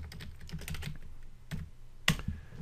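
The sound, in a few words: typing on a computer keyboard and hitting enter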